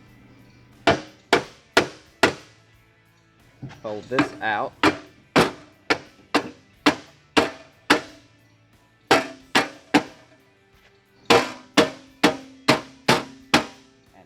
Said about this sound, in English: take a rubber hammer